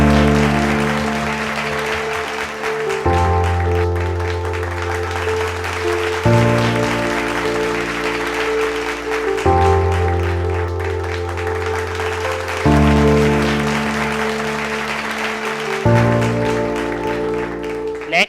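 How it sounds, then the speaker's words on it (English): Audience applause at a tourism and hospitality conference, a steady wash of clapping that runs the whole time beneath sustained, stepwise-changing chords of music. "Give a big round of applause for the teamwork, dedication and scholarly contributions that made this possible."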